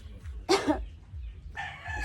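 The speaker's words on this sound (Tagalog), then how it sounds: "So, marami tayong manok dito sa farm." A rooster crows once on a farm of Bacolod-bred chickens, loud and close, followed by fainter farmyard clucking and low background noise.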